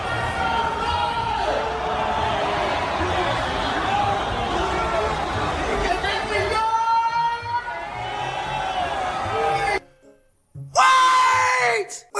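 Crowd at a performance booing, a sustained dense roar of voices that runs loud for most of the stretch, breaks off into near silence, then swells back sharply at the end.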